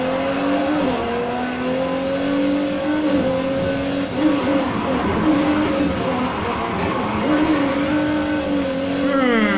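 Engine of a 2020 Polestar 1 in the racing game Need for Speed Heat, a loud, steady revving drone whose pitch climbs and drops through gear shifts, with brief tyre squeal, continuous throughout.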